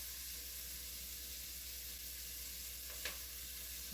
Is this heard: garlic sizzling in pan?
yes